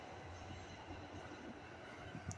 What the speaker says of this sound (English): Train that goes from Grand Rapids to Chicago and there and back